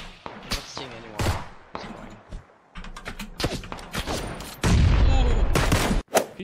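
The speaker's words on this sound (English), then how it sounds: "He shotguns me." Shotgun fire in the battle royale game PUBG, a run of sharp, loud blasts mixed with clattering movement and game noise, with a voice talking briefly between shots.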